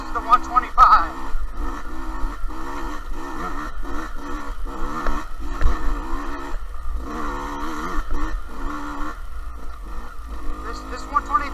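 A 2020 Beta 125RR dirt bike on a demo ride at Loretta Lynn's Ranch, its two-stroke engine droning and revving up and down continuously beneath a rider talking throughout.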